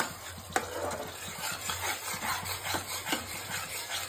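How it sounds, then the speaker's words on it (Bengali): Masala spice paste sautés in oil while a spoon stirs it steadily, a soft continuous sizzle broken by scraping strokes and a few sharp knocks against the pan, close up and with no talk. "এখন যতক্ষণ তেল না ছাড়ে মশলাটাকে ভালো করে কষাবেন।"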